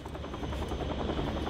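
Steady, close rotor thrum and engine whine of a helicopter in the horror video game Still Wakes The Deep, set on an offshore oil rig, a constant loud drone with fast rhythmic blade chop and no voices.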